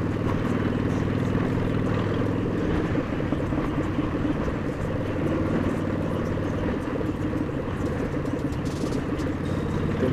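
A custom Harley-Davidson motorcycle rides between lines of cars in traffic, its engine a steady close, loud rumble throughout with wind noise and passing traffic around it.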